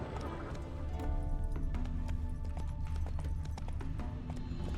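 Roach the horse gallops in The Witcher 3, a steady rhythmic clip-clop of hooves at close range, moderately quiet over a low ambient game background with faint musical tones.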